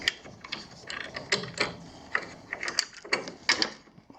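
A bandsaw sled mechanism knocks against a pulley, giving a close run of irregular metallic clicks and ratcheting clunks in quick bursts, with no voices.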